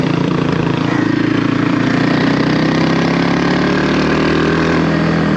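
Kawasaki KLX300R trail motorcycle engine lugging at low RPM, a steady close, loud thrumming drone with an even low pulse throughout and no talking.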